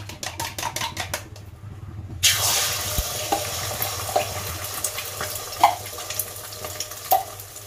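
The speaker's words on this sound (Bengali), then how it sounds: "এবারে এটা আমি এই গরম তেলের মধ্যে দিয়ে দেবো" Eggs frying in hot mustard oil: a sudden loud sizzle bursts in after a few quiet taps, then a steady crackling hiss with occasional scrapes and pops.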